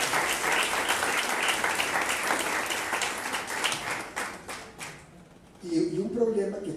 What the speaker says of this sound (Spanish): Démosle la gloria a Dios por un aplauso.